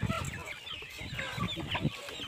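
Village chickens on a farm cluck in short, uneven bursts close by, several birds overlapping in quick chatter over a low background murmur for a couple of seconds.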